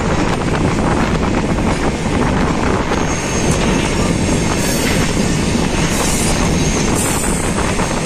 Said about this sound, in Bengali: ট্রেন এখন দয়াগঞ্জ ক্রস করছে।